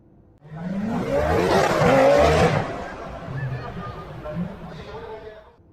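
A small toy sports car motor whirs and revs up loudly for about two seconds, then settles into a quieter hum as a voice talks over it.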